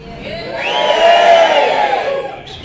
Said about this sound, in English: A little practice cheer now.